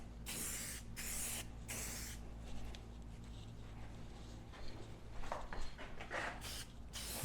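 Aerosol coating sprayed onto a car headlight over cardboard catching the overspray, a faint hissing in several short bursts with quieter gaps between.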